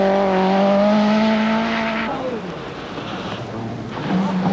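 A rally car at the 1985 1000 Lakes Rally, driven hard in appalling weather with poor traction, its engine note rising in a strong, steady drone before dropping away, then returning loud and close.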